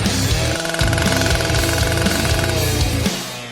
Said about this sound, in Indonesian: Aku tidak butuh gergaji lagi